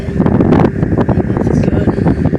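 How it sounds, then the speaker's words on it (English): Strong wind rushing through a forest at night, a loud constant roar with gusty rustling, close to the microphone. "It's windy. It's getting windy too."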